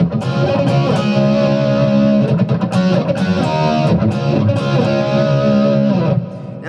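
A gritty, distorted electric guitar plays a second guitar part, a steady, busy riff for several seconds, notes running together before it fades at the end.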